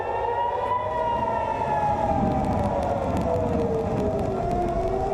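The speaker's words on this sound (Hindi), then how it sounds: "पूरे इलाके में एयर रेड सायरन बजने लगे" A loud, sustained air raid siren wails steadily with a slowly shifting pitch, filling the whole stretch with no talking.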